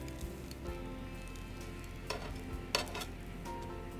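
Bread slices for goat cheese crostini toast on a hot griddle with a steady, soft sizzle and faint crackle throughout, a couple of brief clicks, and no talking.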